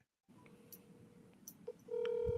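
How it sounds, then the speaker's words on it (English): A telephone call goes through, with a brief faint line noise, a few short dialing tones, then a sustained steady ringback tone starting partway in, heard alone and moderately quiet. "It's ringing."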